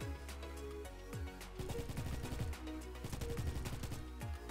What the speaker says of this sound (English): How many times do I have to shoot somebody